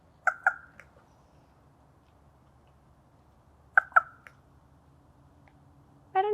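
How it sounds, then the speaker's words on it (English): Two short bursts of strange bird calls sound close by in a quiet outdoor setting, with a third brief cluster a few seconds later after a long pause, the calls distinct over faint background hum. "the bird's about to walk across this way. Ooh, it's making spooky noises."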